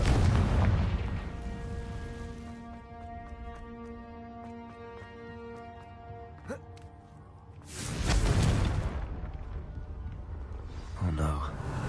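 Spell blasts from the Confringo fire curse in the Hogwarts Legacy video game: booming bursts at the start and again later, separated by a tonal magical hum with game music, loud and close.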